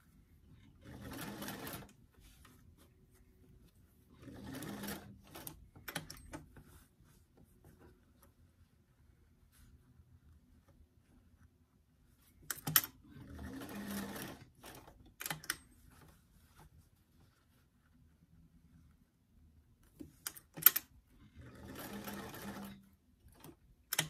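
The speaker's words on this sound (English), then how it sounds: "Make sure that shoulder seam remains open as you sew the sleeve in place." A sewing machine stitches a sleeve into a small doll garment, running in several short bursts of a few seconds each separated by quiet pauses, close and moderately loud.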